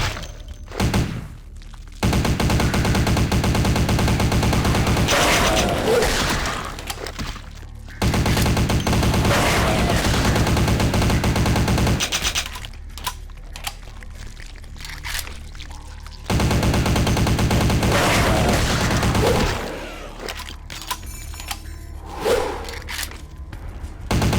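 A machine gun fires in Vampire: The Masquerade Bloodlines with the Final Nights mod, in loud sustained bursts broken by brief pauses and thuds.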